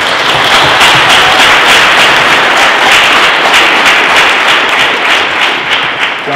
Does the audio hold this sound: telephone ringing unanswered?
no